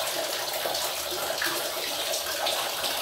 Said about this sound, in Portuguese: Ai, meu Deus, tá muito gelada essa água.